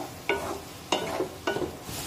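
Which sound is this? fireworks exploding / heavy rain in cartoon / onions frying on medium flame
onions frying on medium flame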